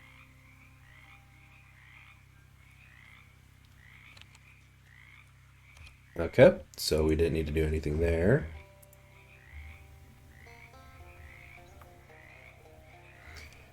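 Frogs croak in a video game swamp, a steady run of short, evenly spaced croaks repeating across the whole stretch, with a brief louder burst of a voice talking partway through.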